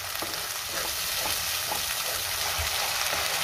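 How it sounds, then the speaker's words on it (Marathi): Tomato paste sautéing in oil in a pan for Dhaba-style shev bhaji, a steady close, loud sizzle and hiss with faint stirring scrapes underneath and no voices. "आता आपल्याला ह्यामध्ये टोमॅटोची पेस्ट घालायची आहे आणि टोमॅटोची पेस्ट आपण चांगले तेल सुटेपर्यंत परतून घ्यायची आहे"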